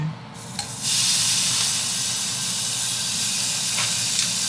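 A hot frying pan hisses with a steady, loud sizzle that swells after a brief quieter moment and then holds evenly, close by and with no talking.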